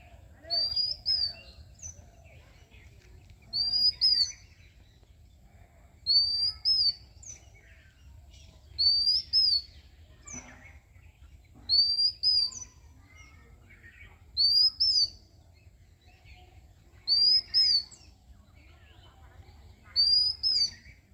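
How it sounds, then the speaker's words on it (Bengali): An oriental magpie-robin sings in repeated clear whistled phrases roughly every two to three seconds, bright and distinct over a low steady background rumble. "দোয়েল পাখিকে জাতীয় পাখি বলার কারণ আজকেই বুঝতে পারলাম তো এর মধুর ডাকটা কিন্তু অনেক সুন্দর"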